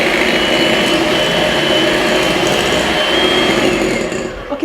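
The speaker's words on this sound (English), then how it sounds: "I'm just going to whisk it together with my hand mixer" An electric hand mixer whisks sugar in a mixing bowl for red velvet cupcake batter, a loud, steady motor whir that holds for several seconds before cutting off at the end.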